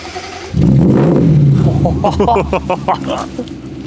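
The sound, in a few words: 2005 Range Rover supercharged V8 engine sound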